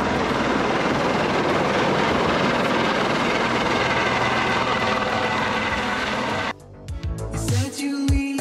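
Loud, steady rotor and engine roar of a helicopter at Vaishno Devi fills most of the stretch, then cuts off sharply near the end into quieter clatter and rattling.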